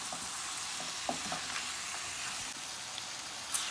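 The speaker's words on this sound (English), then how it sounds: "We're gonna mix this in well" Peas, chicken and carrots sizzle and frying steadily in a pan while being stirred for Guyanese chowmein, a continuous hiss with small scraping clicks of the utensil throughout.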